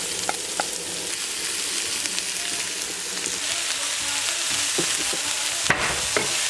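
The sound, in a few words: onion added and frying in coconut oil with seeds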